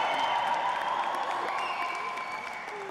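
A large audience applauds steadily and loudly throughout, dense clapping with a few cheers mixed in, filling a hall evenly from start to end.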